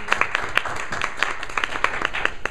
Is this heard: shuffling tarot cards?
no